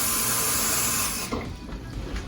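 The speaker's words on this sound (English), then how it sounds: "Let me show you our tap water." Hard tap water gushes loudly and steadily from a faucet, then cuts off, leaving softer drips and trickling.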